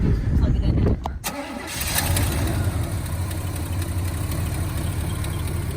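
A 1981 Monte Carlo's engine cranks briefly, catches with a sharp burst and settles into a steady, close rumbling idle, with voices heard alongside.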